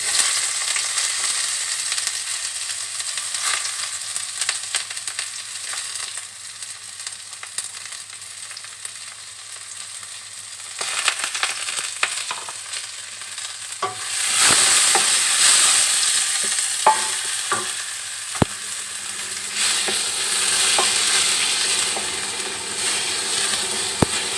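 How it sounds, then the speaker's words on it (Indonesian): Shallots and garlic sautéing in cooking oil in a pan, a close, continuous sizzle that grows louder partway through, with occasional scrapes of stirring and no talk. "kita tumis dulu bawang merah,"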